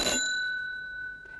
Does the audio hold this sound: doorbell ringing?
yes